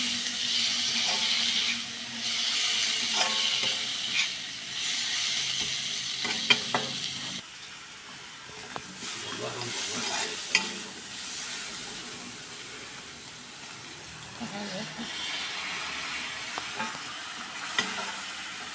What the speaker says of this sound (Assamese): আৰু চজিনা কেইডাল এতিয়াই দি দিওঁ, অকণমান ভাজ খালে খাবলৈ ভাল লাগিব।